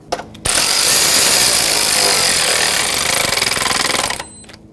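A power tool runs steadily for about four seconds, tightening the battery hold-down bolt on a 2006-2010 Hyundai Sonata, loud and close, with a faint buzzing pulse near the end before it stops.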